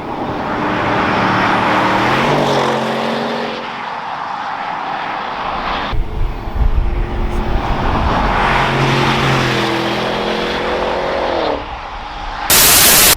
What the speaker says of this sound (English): we just did a couple flybys literally right there at